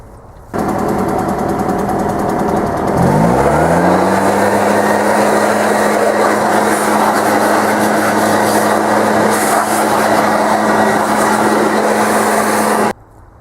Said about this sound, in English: let's hit it again with the blower.